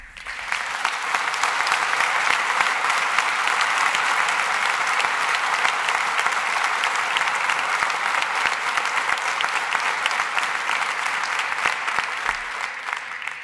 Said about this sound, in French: j'aimerais qu'on puisse les applaudir à tout rompre